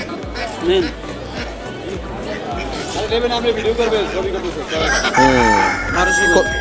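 Chickens cluck and a rooster crows amid a busy crowd at a rural village market in Kotalipara, Gopalganj, Bangladesh, with people talking and haggling close by throughout.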